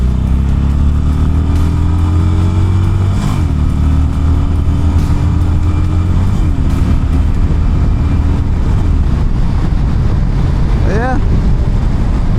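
A Harley-Davidson Iron 883 motorcycle accelerates hard, its engine note climbing through gears under heavy wind buffeting across the microphone. The sound is loud and close, with a rising pitch that drops at each shift.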